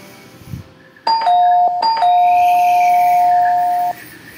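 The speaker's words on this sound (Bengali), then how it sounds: "এই সময়ে কলিং বেলটা বাজলো" A doorbell chimes twice in a bright two-tone ding-dong, the second tone ringing out and fading after a few seconds.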